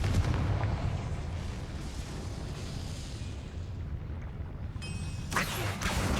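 Confringo fire-spell explosion in the Hogwarts Legacy video game: a deep rumbling blast that rolls on for several seconds, followed by a brighter crackling burst near the end.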